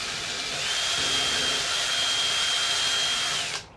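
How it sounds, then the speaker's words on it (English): Power drill boring through a hollow floating shelf while laying N scale track, one steady high whine holding for about three seconds before stopping abruptly, close and alone. "you could be drilling through wood, or you might just be drilling through pretty much a hollow space"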